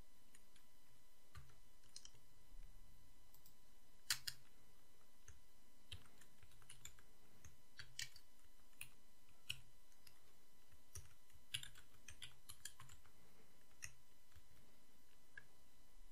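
Quiet, irregular keystrokes on a computer keyboard, soft clicks and taps scattered across the stretch with occasional sharper presses, typed fairly close against a faint steady background hum.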